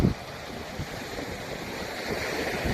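Sea waves washing onto Ban Krut beach in Bang Saphan, Prachuap Khiri Khan, with wind, a steady broadband roar that swells slightly near the start and end, no voices.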